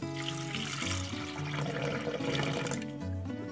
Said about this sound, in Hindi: पानी शामिल कर दीजिए इसके अंदर।